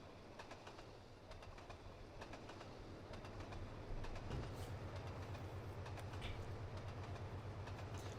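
A freight train rolls along steadily in the Trainz Simulator 2 game, with rhythmic clicking of wheels over rail joints, a continuous low rumble, and faint bird calls in the background.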